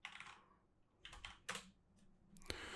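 Bursts of typing on a computer keyboard while entering a web address in a browser, short clusters of close key clicks separated by brief pauses, with no voice.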